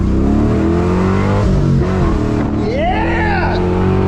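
A loud LS-swapped Chevrolet Colorado pickup engine revs steadily on a dyno and builds, a rising whine sweeping up near the end, with voices faintly underneath.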